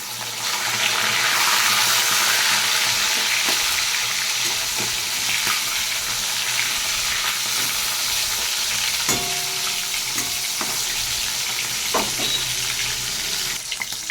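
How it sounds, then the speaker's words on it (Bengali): Fish pieces frying in hot oil in a wok, turned one by one, give a steady loud sizzle with occasional scraping and clinking of a utensil against the pan. "মাছগুলোকে আমি এক এক করে উল্টে দিচ্ছি।"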